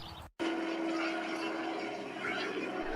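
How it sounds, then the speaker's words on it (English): Loud, continuous engine drone of a low-flying helicopter, steady throughout after a brief cut at the start. "There is a helicopter coming towards us. It is flying very low."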